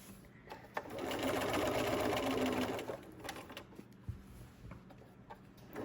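A sewing machine stitches along the edge of a towel on a hooded towel project, a steady loud run of about two seconds, then a few short back-stitch bursts and soft handling sounds follow.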